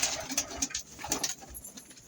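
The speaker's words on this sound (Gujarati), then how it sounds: "જો આપણે બધા કબૂતર બહાર નીકાળી દઈએ" Several pigeons coo in short bursts close by in a loft or coop, with soft wingbeats and shuffling around them and no talk.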